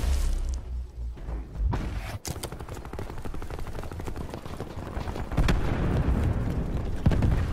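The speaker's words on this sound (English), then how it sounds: "Incoming cluster grenade." Cluster grenade explosions go off in the video game Black Ops 4 as a dense rattle of rapid bursts and booms, loud and continuous, with a heavier surge of blasts toward the end.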